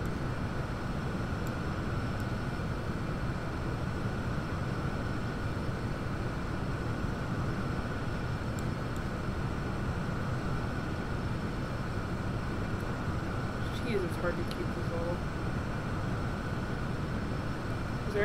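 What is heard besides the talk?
airplane in flight in X-Plane 11 flight simulator video game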